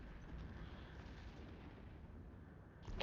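Rockets tear through ships in the space game Eve Echoes, a dense, continuous rumble of explosions and heavy blasts with a sharper burst near the end.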